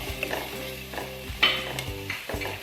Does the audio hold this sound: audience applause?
no